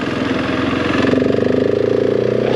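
A KTM 690 SMC motorcycle exhaust growls loud and close, a throbbing single-cylinder burble that swells as the throttle opens, with no voices.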